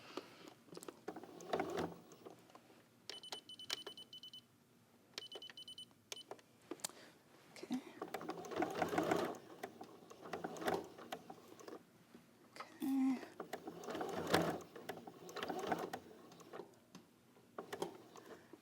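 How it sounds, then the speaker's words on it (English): A sewing machine stitching the hem of a lined curtain, back-stitching to catch the edge, a faint mechanical whir in short runs with clicking and ticking between bursts, no voices. "As you can see, I am doing a little bit of a, back stitch here to catch that edge."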